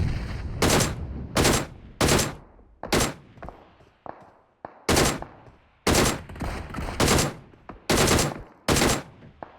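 Rapid gunfire bursts from a PUBG Mobile battle, about a dozen loud, sharp volleys spaced irregularly with brief gaps between them, close and dominant with no talk.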